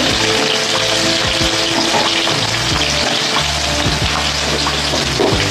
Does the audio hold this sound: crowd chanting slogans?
no